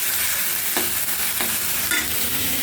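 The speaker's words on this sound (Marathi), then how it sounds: "मस्त मसाला परतून घ्यायचा चांगला।" Masala with red Byadgi chili powder sizzles and fries in a pan, with occasional stirring scrapes over the continuous close frying hiss.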